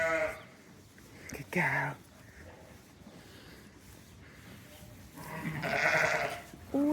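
Sheep in a barn holding pregnant ewes bleat nearby in two separate bursts, one short and one longer and louder, with a quiet voice speaking in between.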